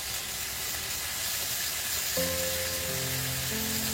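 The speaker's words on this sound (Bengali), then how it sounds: "দেখুন এই তেলের মধ্যেই রসুন বাটাটা দিয়ে দিচ্ছি" Garlic paste hits hot oil with a steady, loud sizzle and hiss, joined partway through by a low humming tone, with no talking.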